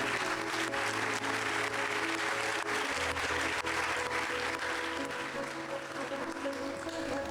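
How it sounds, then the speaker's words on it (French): Sustained applause from a large audience at a festival ceremony, dense and steady clapping filling the whole stretch without a break. "Je vous demande de les applaudir."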